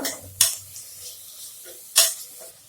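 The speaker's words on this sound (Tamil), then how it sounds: "இப்போ நல்லா மிக்ஸ் பண்ணிக்கோங்க." A utensil scrapes and taps against a cooking pan of cabbage pulao, with two sharp metallic clinks standing out over quieter stirring and a faint sizzle.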